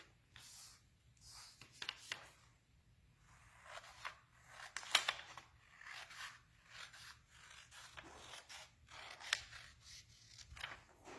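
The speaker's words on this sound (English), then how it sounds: "we're going to cut this rectangle off because that will leave us a nice square on this side" Scissors snip through paper to cut a rectangle off a craft sheet, faint close crisp cuts in irregular bursts with quiet rustling between, no talking.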